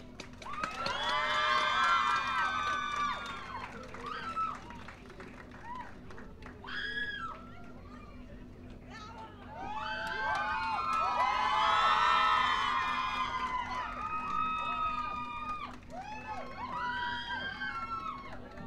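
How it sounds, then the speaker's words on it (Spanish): An audience at a book fair magic show cheers and whoops to welcome the magician Roger González on stage, with excited children's shouts rising in two loud waves and easing between them. "Por favor, recibámoslo con un gran aplauso."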